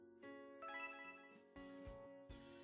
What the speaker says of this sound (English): your cell's ringing